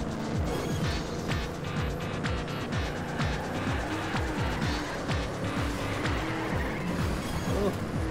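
A car in the Trackmania racing game drifts with a constant high-revving engine drone and intermittent tire squeal, loud and continuous throughout.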